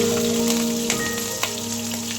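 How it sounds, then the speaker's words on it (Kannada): Cut green chilies frying in a little oil in a pan, a steady close crackling sizzle throughout with a couple of small pops and no talk. "ಇವಾಗ ಕಟ್ ಮಾಡ್ಕೊಂಡಿದ್ದು ಹಸಿಮೆಣಸಿನ್ಕಾಯಿ ಹಾಕೋತಾ ಇದ್ದೀನಿ"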